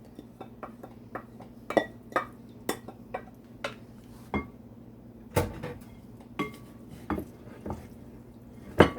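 Buffalo chicken wings tossed and mixed in a bowl, with a steady series of short clinks and knocks of utensil against dish, fairly close and moderately loud, over a low kitchen hum.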